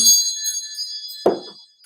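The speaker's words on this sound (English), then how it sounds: "Let's call in spirit with a little bit of wind chime time." Wind chimes rung to open a spiritual reading, shimmering metallic tones sustained through the clip, with a softer low thump near the end as the ringing fades.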